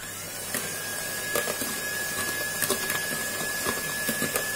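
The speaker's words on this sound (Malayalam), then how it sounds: "അപ്പൊ ബനാന ചേർത്ത് ഒന്ന് ബീറ്റ് ചെയ്യാം." An electric beater whirs steadily through wheat banana cake batter as banana is mixed in, a continuous motor drone with a thin whine and light periodic rattles.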